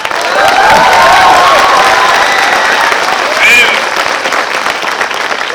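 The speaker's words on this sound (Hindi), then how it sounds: "आप सब इनको के लिए एक बार तो पहले जोर से ताली बजाइए" A motivational talk audience bursts into loud, sustained applause, a thick continuous roar of many hands with some cheering, swelling briefly before tapering off.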